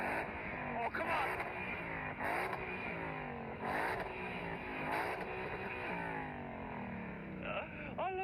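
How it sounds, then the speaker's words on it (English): A German V8 car engine revs hard and repeatedly, pitch climbing and dropping in loud sweeps, with a voice talking over parts of it. "So go and rev it up all the way."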